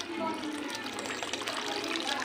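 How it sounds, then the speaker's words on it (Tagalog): Two cups of water poured steadily from close by into flour for hopia dough, a continuous splashing gush with no breaks, set in a home kitchen. "Paglagay muna tayo ng 2 cup na tubig."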